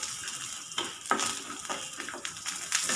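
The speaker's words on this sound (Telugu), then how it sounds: "ఇలా 2 వేయించుకుని పక్కన పెట్టుకోవాలండి." Ingredients for an ivy gourd and onion dish fry in a pan, giving a soft, steady sizzle broken by several brief scraping stir strokes, fairly faint and close.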